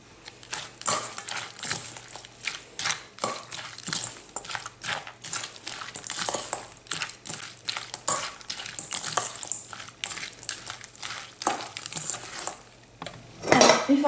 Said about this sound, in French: Alors, je vais mélanger la farce.